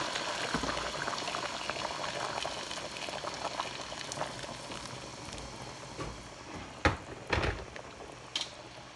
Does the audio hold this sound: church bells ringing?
no